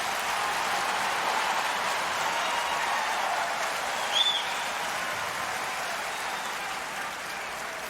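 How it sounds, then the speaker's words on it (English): Steady, dense applause from a big tennis crowd at the 2025 US Open, heard at a distance, a continuous wash of clapping that holds evenly throughout. "And Fearnley the first to lead the applause"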